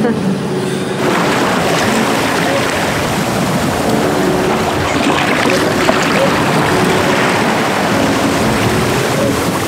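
A sailboat motoring under engine power on a calm sea, a steady broadband wash of engine and water noise with wind rumble running throughout, no distinct events standing out.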